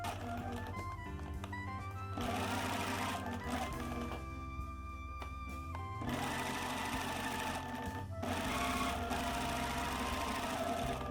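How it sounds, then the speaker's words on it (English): A sewing machine runs steadily, stitching a dress bodice to the skirt at the waist with a half-inch seam allowance, its rapid mechanical whir continuous and close, with slight pauses and speed changes along the curves. "With right sides together, pin the front bodice to the front skirt at the waist. Sew at 1/2 seam allowance"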